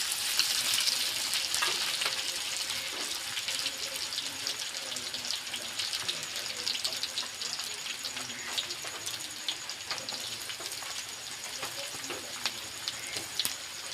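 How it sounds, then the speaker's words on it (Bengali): Chopped onions and cumin frying in a pan, stirred now and then, with a continuous crackling sizzle resembling light rain and scattered soft scraping, close up and with no voices. "এবার আমরা নেড়ে চেড়ে নেব, লাল লাল করে ভেজে নেব"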